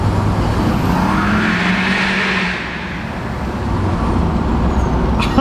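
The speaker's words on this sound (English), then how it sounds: "I feel like you could hear the turbo a little bit more" A Duramax LMM diesel Silverado pulls hard under load, its turbo and cold air intake giving a loud, sustained roar with a whooshing rise. The roar dips briefly mid-pass, then swells again, with no speech.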